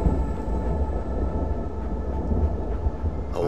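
Deep, continuous rumbling thunder rolls through a video game scene in an abandoned city, a loud low roar with a steady hiss of rain or wind layered over it, no voices.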